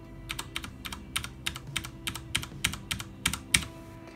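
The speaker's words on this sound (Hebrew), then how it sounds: "בואו ננסה לשמוע את הרעש שהמקלדת מפיקה" Typing on a Corsair Strafe mechanical keyboard with Cherry MX Brown switches: a steady run of crisp, close clacks about every third of a second, with no talk over them.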